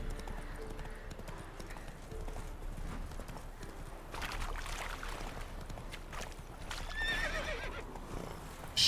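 A horse in The Witcher III video game gallops with steady, rhythmic clip-clopping hooves, and a whinny rises partway through; the sound runs continuously at moderate loudness.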